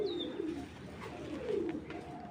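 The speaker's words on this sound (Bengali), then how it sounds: "ক্লাবের কবুতর" Racing club pigeons coo in low, rolling phrases, close and steady through the whole moment, with no one speaking.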